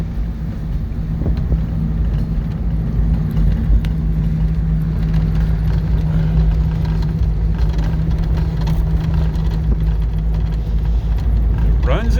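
A 1956 Ford Anglia 100E engine runs steadily on a test drive at about 25 mph, a low continuous hum heard from inside the car with wind buffeting over it.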